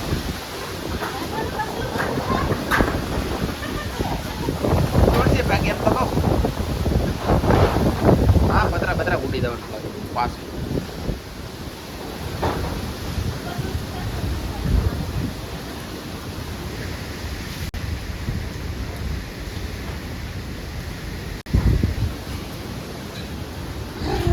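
Strong storm wind at sea buffets the microphone in a continuous roaring rush that swells and eases, with a voice talking over it throughout.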